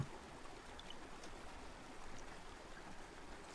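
Flowing water in the video game Mind Path to Thalamus murmurs as a faint, steady trickling stream, a soft continuous wash with no talk over it.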